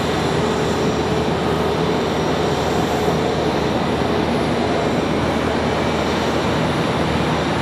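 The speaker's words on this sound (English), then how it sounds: "we've got an A319 coming back in" An arriving Airbus A319 airliner makes a steady, loud broadband roar with a constant whine, unbroken from start to finish.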